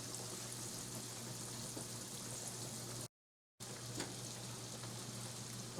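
Venison roast pieces fry in a pan with a steady, close sizzle that runs throughout, broken once by a brief silent gap midway.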